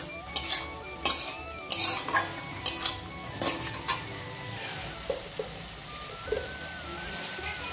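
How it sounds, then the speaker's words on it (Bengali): Slit green chillies hit a frying pan for a Bengali doi dish, giving a steady sizzle under repeated clanks of a spatula stirring against the pan, with no talking. "এখন দিয়ে দিচ্ছি চেরা কাঁচা লঙ্কা।"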